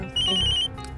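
Brief electronic mobile phone ringtone, a bright repeating tone heard up close for about half a second.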